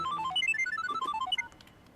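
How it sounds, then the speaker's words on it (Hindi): A mobile phone ringtone plays a quick, bright electronic melody of rapid stepped notes, fairly close and steady, then cuts off abruptly after about one and a half seconds. "यार इस वक्त किसका फोन आ गया?"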